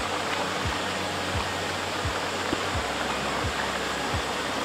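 Steady rushing water pours through a dam into a trough or river below, a broad constant roar with no voices over it.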